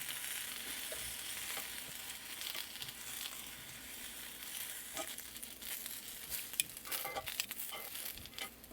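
Tomatillos and onions roast in a hot pan, giving a soft continuous sizzle and crackle with occasional sharper pops and spits, close and fairly quiet.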